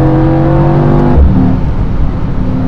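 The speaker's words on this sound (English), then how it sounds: "experience the AMG performance of this E63S with its V8 BiTurbo 4MATIC Plus, because the sound is phenomenal" Mercedes-AMG E63 S 4MATIC+ from 2021 with a V8 biturbo engine, loud close revving that holds a strong harmonic tone, then drops off into a rough, rumbling burble.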